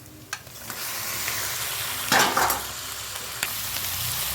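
Onions fry in a pan for duck curry, giving a steady, soft sizzle. About halfway through, a short, louder scrape of stirring rises above it, and faint clinks sound before and after.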